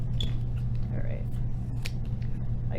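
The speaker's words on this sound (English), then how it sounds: "I'm going to cut some more." Scissors snip through a cardboard tube in a few soft, scattered cuts, faint and close over a low background hum.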